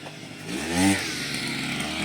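A motorized grass trimmer cuts weeds outside in a home garden, its small engine whining steadily with a brief rise in pitch partway through, close and loud, with no talking.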